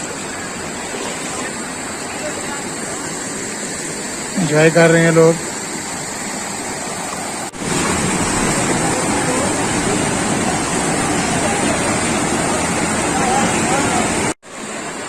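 Water from Umbrella Waterfall in KPK rushing steadily at its outlet, a broad even roar that grows louder partway through and then cuts off briefly, with a short voice over it.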